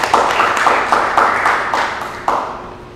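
Applause for a presenter at a talk on exoplanet detection methods: a small audience, sparse and thin, with distinct claps that come in loose bursts and trail off over a few seconds.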